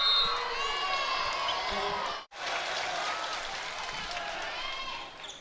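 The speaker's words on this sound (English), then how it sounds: "The crowd to its feet." A volleyball arena crowd at a Big Ten college match cheers and applauds loudly and steadily after an ace serve, with a brief sharp cut partway through before the dense roar resumes.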